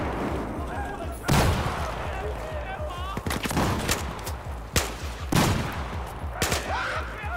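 Battlefield 4 gameplay firefight: sharp gunshots and bursts of rifle fire crack out repeatedly, several loud near shots amid ongoing background combat, with voices talking faintly underneath.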